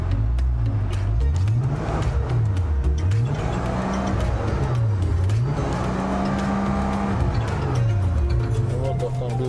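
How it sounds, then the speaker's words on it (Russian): Engine of a Volvo XC car with 56,000 km on it, running and pulling away smoothly through gear changes, with rising and falling revs under steady talking. "Вот автомобиль у нас поехал без проблем, коробка передвигается тоже отлично, плавно."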